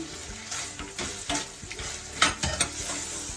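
Potatoes tipped into a hot pan of softened tomatoes and turmeric while cooking avalakki bisibele bath, giving close sizzling and frying with scraping stirring strokes and a few louder clattering bursts near the end; no talking.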